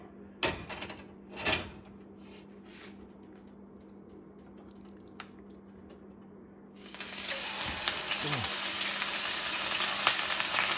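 Lemon garlic marinated basa fish fillets laid into a hot pan, a few quiet handling knocks followed by a sudden loud, bright sizzle that bursts in and holds steady, close up.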